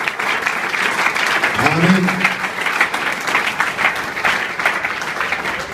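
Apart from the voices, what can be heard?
audience applause in church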